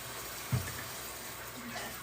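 Tap water runs steadily over tie-dyed clothes being rinsed in a sink, a continuous broadband splash with a brief thump near the start, no voices.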